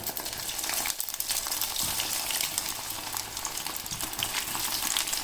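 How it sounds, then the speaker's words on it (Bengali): Steady, hissing sizzle of Korean fried chicken being double fried in very hot oil, continuous and fairly loud with faint crackles throughout. "তেল খুব গরম হয়ে গেছে, এবার আমি এই ভাজাগুলোকে আরেকবার করে ভাজছি।"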